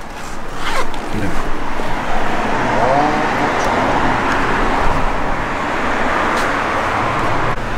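A car engine idles steadily after being started during fuel injector repair, a loud continuous rumble and hiss that runs throughout, with faint background voices.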